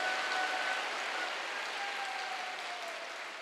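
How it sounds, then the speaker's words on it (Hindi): Applause from a church convention congregation thanking God, a steady broadband patter of many hands that stays even and fairly loud, then fades slightly toward the end. "विश्वास करने वाला ताली बजा के परमेश्वर का धन्यवाद करें।"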